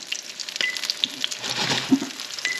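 Blackbelly Rosefish fillets fry in a pan with a little oil, giving a close, steady sizzle with crackling pops and spits, heard alone without talk.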